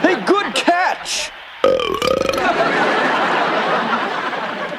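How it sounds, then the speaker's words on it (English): Brief voices are followed by a loud, drawn-out belch that rumbles on for several seconds before fading slightly. "you belched all through the whole game"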